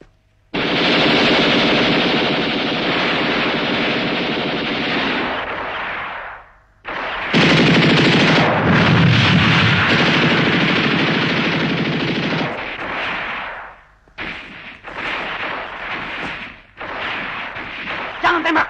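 Heavy gunfire exchange in an Indonesian war film: long, loud, sustained bursts of automatic fire separated by brief gaps, with a short burst of shots near the end.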